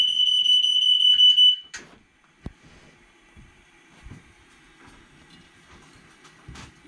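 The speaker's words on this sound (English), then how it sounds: "Oh, and there's my smoke detector." A piercing high-pitched smoke alarm, set off by burning orange peel during cooking, sounds loudly for over a second, then stops, leaving quiet room noise with a few clunks and knocks.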